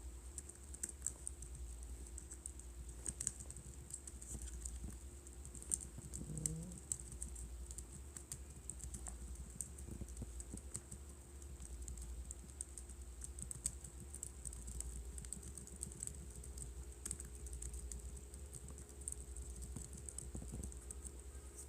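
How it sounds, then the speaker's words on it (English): Steady typing on a computer keyboard during a live game stream, a continuous patter of quick, light clicks at a fairly even pace under a constant high hiss, with no voices. "So, as I was just typing,"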